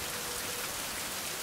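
Steady rain falling outdoors in a remote open area, a dense, even hiss of drops that fills the whole moment without pause.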